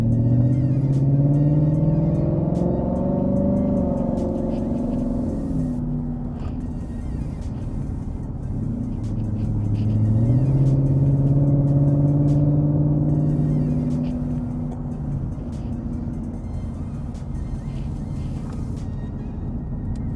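2018 Ford Mustang with automatic transmission accelerating, its engine note rising in pitch, dropping at an upshift around the midpoint, then climbing again, a steady rumble heard from inside the car.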